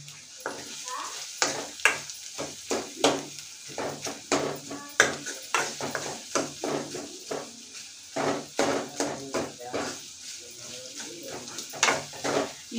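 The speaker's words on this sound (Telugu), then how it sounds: "ఈ టమోటాలు అనేవి ఆయిల్లో బాగా మగ్గిపోవాలండి" Tomatoes cooking in oil for egg curry, with repeated stirring scrapes and clinks of a spoon in the pan over a low sizzle, steady through the stretch with brief pauses.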